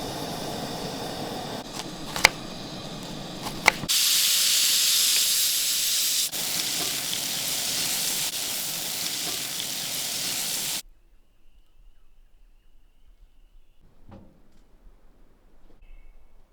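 Pepper pork frying on a camp stove in an overlanding Jeep kitchen, a steady, fairly loud sizzle and hiss for about ten seconds before it cuts off into near silence with faint small clinks.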